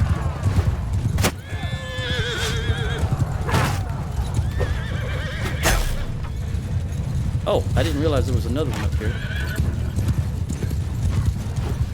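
Horse hooves clip-clop steadily with a few whinnies, amid battle noise from Mount & Blade II: Bannerlord and someone talking over it.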